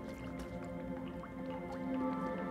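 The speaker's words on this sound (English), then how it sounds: "There's a drip right here." Faint water drips fall at an irregular pace over a low steady hum of ambient game sound in the pale city chapter of Little Nightmares 2.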